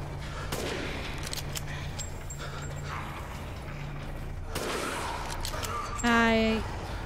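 Sniper rifle shots ring out in Resident Evil Village gameplay, sharp reports amid game mechanisms and clatter, with a loud burst near the end.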